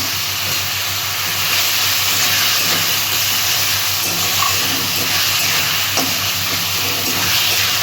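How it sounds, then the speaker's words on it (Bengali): Masala with ginger garlic paste fries in a pan, giving a loud, continuous sizzle and hiss that holds steady throughout, with faint stirring scrapes underneath. Nobody speaks. "আমি মশলাটা ভালো করে কষিয়ে নেব।"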